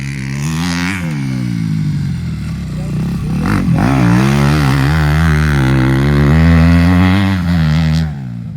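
A motocross bike at a training camp holds a loud, sustained engine drone as the rider applies throttle. The pitch rises and falls, then cuts off near the end. The engine stays steady and close throughout.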